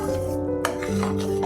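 A spoon stirs melted jaggery in a pan for sesame-jaggery laddoos, giving a steady near scraping and rubbing with a faint sizzle beneath and no talking.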